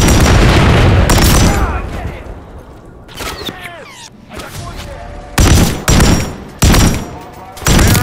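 Enemy gunfire in the Call of Duty MW3 campaign: loud bursts of automatic fire and booming shots come in clusters, with a quieter lull in the middle before several heavy volleys near the end.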